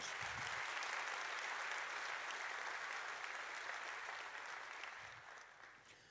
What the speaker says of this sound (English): Come on, let's another round of applause.